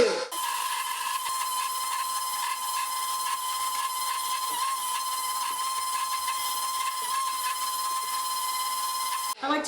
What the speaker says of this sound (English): I'm going to turn it on just to about 2